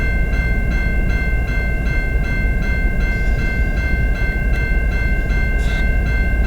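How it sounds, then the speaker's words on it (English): Locomotive power move, including GP38 and GP9 units, rolling into a rail yard siding: a loud, steady engine rumble up close, with a sustained high whine and faint rhythmic clicks from the wheels. "Now we got a power move coming into a yard siding"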